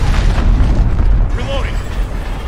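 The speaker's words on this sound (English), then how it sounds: "Allied cruise missile launched." A cruise missile blast in the Call of Duty Modern Warfare VR beta, a loud rumbling boom with a sustained roar and low-end weight that fades slightly, with a voice speaking over it.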